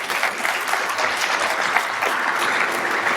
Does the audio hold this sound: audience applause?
yes